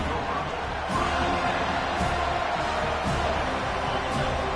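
A football stadium crowd at the Oregon vs FSU game roars in a dense, steady wall of noise, with faint thumps and claps punctuating it at roughly one-second intervals.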